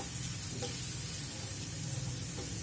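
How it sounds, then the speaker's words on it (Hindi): Garam masala spices sautéing over a low flame for kadhai paneer, a steady soft sizzle and gentle frying hiss running continuously without any talk. "धीमी आंच पे भूनेंगे"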